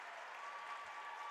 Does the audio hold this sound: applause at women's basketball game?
yes